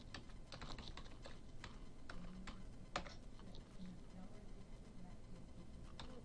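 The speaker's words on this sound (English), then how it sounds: "we type mount to see if it's mounted" Close, quiet clicking of a computer keyboard as a command is typed to check a floppy mount, a rapid run of keystrokes with a person talking softly under it.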